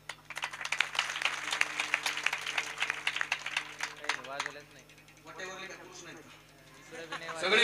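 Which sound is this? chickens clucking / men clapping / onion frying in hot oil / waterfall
men clapping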